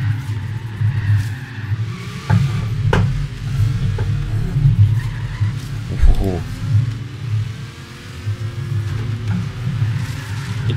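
A car drifts off-road in Forza Horizon 3, its engine droning steadily with tire noise, balancing at the edge of grip, under continuous talk.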